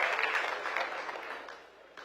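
Audience applause at a community panel event, a dense wash of clapping that is fairly quiet and gradually fades over two seconds, with a brief swell again at the very end.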